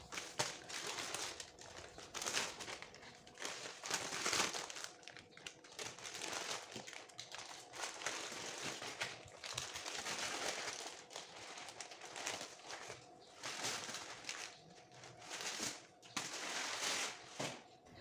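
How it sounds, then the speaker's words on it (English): Baking paper unrolled from around a chilled coffee and biscuit roll cake, a long stretch of close, continuous crinkling and rustling with no talk. "After 1 hour, you open the baking paper."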